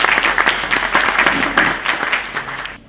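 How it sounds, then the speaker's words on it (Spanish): An audience at a medical conference on HIV/AIDS in surgery gives sustained, dense applause, loud and continuous before tapering off at the end. "Un aplauso, por favor."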